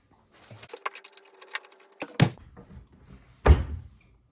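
A cabinet door with a faulty, loose hinge being worked: a soft rattle and squeak, then two sharp knocks as the door is shut, close by with no talking.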